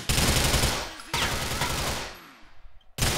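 Rapid automatic gunfire in GTA IV, loud sustained bursts that cut off abruptly, leaving a decaying echo before another burst starts at the end.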